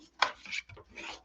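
Scored cardstock being burnished with a bone folder for a paper craft box, close, quiet dry rubbing strokes, two or three short swipes in quick succession.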